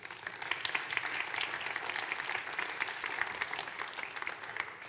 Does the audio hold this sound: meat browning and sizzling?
no